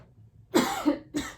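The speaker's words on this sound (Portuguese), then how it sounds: "A tosse começou cedo hoje." Two close coughs, one sharp and then another after a brief pause, against a quiet background.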